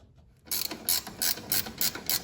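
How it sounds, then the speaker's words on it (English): A ratchet wrench tightens a control arm bolt on a Fiat 124 Spider Abarth during a lowering spring install, giving a run of sharp, evenly spaced clicks close by after a brief silence. "now we're tightening down the other side of the control arm"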